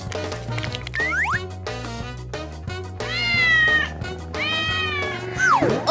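Kittens meow repeatedly in high, rising and falling cries over a rhythmic cartoon music backing, several calls overlapping near the end.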